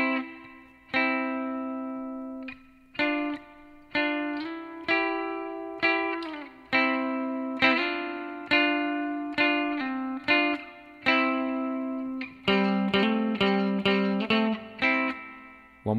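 An electric guitar plays a double stop line from a song, a series of clean plucked two-note stabs, each ringing and decaying, with a quicker run of notes near the end, close and alone.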